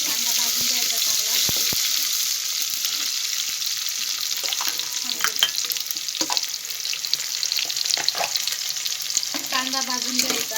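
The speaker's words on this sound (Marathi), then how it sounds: "त्याच्यात कांदा भाजून घ्यायचा चांगला." Onion frying in a pan for a village-style chicken curry, a steady loud sizzle with occasional scraping stirs of a spoon against the pan, close up, without talk.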